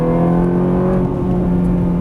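A Ferrari 430 on a race track, its engine holding a loud, steady, harmonic drone under throttle with no break for the full stretch.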